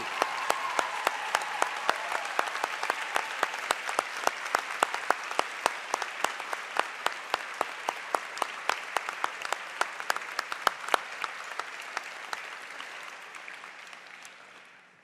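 Graduation audience at an Education and Arts convocation ceremony applauds the faculty professors, sustained crowd clapping in a large hall with sharp individual claps standing out, holding steady for a long stretch before slowly dying away.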